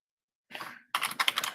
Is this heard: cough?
no